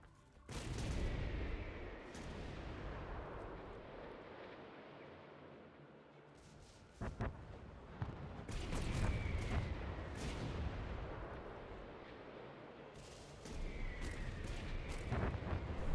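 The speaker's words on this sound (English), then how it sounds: "The mortars are in position, and the target is in range." Mortar bombardment in Guild Wars 2 as troops shell undead advancing on a bridge: repeated heavy launches and booming impacts, some with whistling trails, rumbling in irregular waves at moderate distance without speech.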